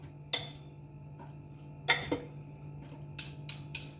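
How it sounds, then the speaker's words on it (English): Ground beef with vegetables in tomato sauce being stirred in an air fryer basket: a few separate clinks and scrapes of utensil on cookware, with quiet gaps between them and a faint steady hum underneath. "Let's give it one more stir just to make sure."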